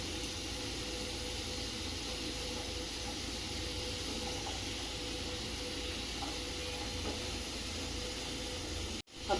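Potatoes and parwal frying in an open pan, a steady soft sizzling hiss that runs evenly throughout, then a brief sharp drop and a small clatter at the end.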